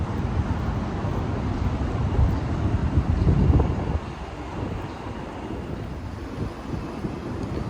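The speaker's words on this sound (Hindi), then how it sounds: "हवा भी बहुत अच्छी चल रही है" Wind gusting against a microphone outdoors on a walk through Dubai, a low rumbling buffet that swells, then eases into a steadier, softer rush, with no talk.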